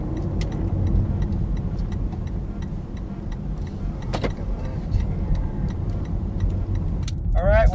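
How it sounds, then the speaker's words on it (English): A car cruising along the road, heard from inside as a steady, fairly loud low road rumble with faint ticking and jangling on top and a brief squeal near the end. "We're just cruising in the car."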